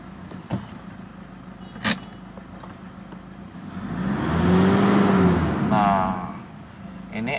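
A Toyota Fortuner engine after Blackcore tuning revs up once in a smooth, rising and falling swell, preceded by a couple of sharp clicks and quiet idle, heard nearby.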